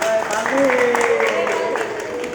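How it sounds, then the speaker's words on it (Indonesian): Students clap for a classmate named Paldi in a welding class; a short burst of scattered clapping runs under a sustained voice or tone, fairly close and moderate in level. "Tepuk tangan dong buat Paldi"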